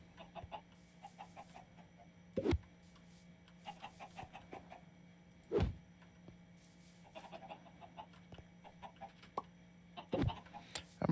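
Chickens clucking in Minecraft: short, sharp clucks every few seconds over a steady low background hum, with softer busy game noise between them and no talking.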